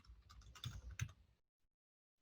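A quick burst of keystrokes on a computer keyboard, soft close clicks clustered for about a second, then silence broken by one sharp click at the end.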